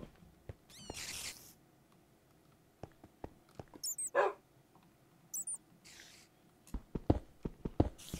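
A dog in Minecraft gives a few short, sharp barks amid sparse game clicks and thumps, fairly quiet overall, with scattered bursts of activity toward the end.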